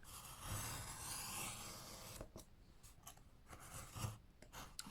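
A knife slices through journal-cover board along a ruler in one long, close, quiet scraping rasp, followed by a few short, sharp scratchy strokes.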